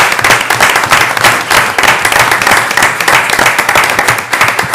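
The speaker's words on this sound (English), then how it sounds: "So I'd like to give Angel a big round of applause." Audience applause at a board of directors meeting, a dense, steady wash of many hands clapping at close range for about five seconds with no talk over it.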